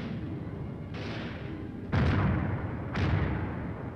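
A 4.2-inch mortar platoon fires in the field, three heavy booming reports about a second apart rolling out over a steady rumble, each burst loud and sharp at onset.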